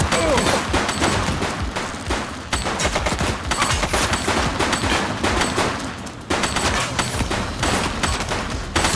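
Heavy gunfire in The Precinct, a police detective game, rapid overlapping automatic shots in a dense fusillade that carries on steadily for the whole stretch, loud and close.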